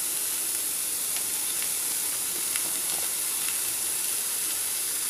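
Onion fries with salt in a pan on a low flame, giving a continuous, even hiss of sizzling oil with faint crackles, steady throughout and without voices.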